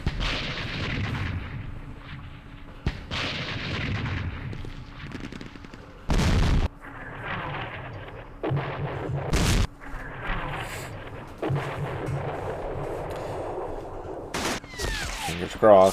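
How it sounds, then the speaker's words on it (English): Artillery fire in the wargame Campaign Series West Front during Operation Sealion, with several loud, abrupt booming blasts spaced across a busy, clattering game soundscape. "Smoked by their artillery."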